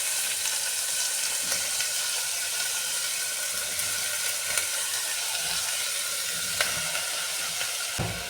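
Vegetables and onions sautéing in a pan for a vegetable curry, a constant loud hissing sizzle with faint stirring scrapes and a few soft knocks.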